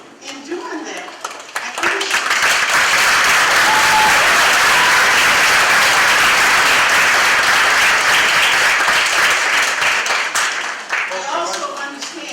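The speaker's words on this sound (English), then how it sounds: "if we're gonna clap on everything, it's gonna be a long, long night" Loud, sustained applause from an audience at a public hearing, swelling quickly and holding strong for several seconds before easing, with someone speaking briefly at the start and again as the clapping dies down.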